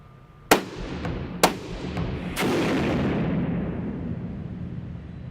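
Rifle shots fired on an underground indoor test range, three sharp cracks about a second apart, the last one leaving a long rumbling reverberation that fills the enclosed space.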